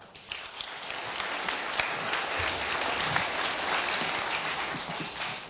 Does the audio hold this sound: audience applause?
yes